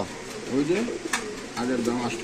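Fancy racer and mackpied pigeons coo in short, rising throaty phrases at a pigeon market, close and fairly clear, with a quiet background of market noise.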